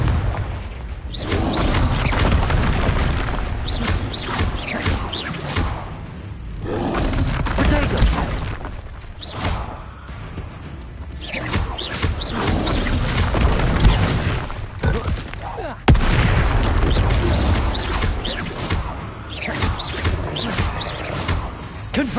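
Repeated Confringo blasting-spell explosions in the Hogwarts Legacy video game boom and roar in a dense, loud, continuous barrage of impacts, with occasional shouted spell incantations during the fight.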